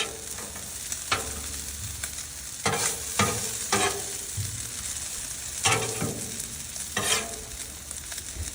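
Bacon fries on a Blackstone griddle with a constant, loud sizzle and occasional sharp bursts of spatter and scraping as strips are moved, with no voices.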